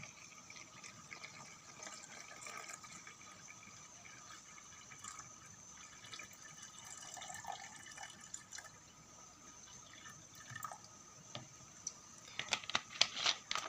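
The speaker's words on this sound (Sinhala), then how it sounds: "අපි දැන් මුලින්ම මේ භාජනයට වතුර දාමු." Water trickles and splashes into a three-holed vessel at a low, steady level, with a few louder clinks and splashes near the end.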